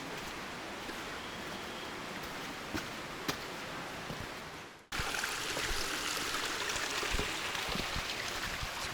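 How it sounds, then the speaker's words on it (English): Water streams rush steadily through a canyon, a continuous broadband wash of flowing water heard up close, briefly dipping before surging back slightly louder. "water streams"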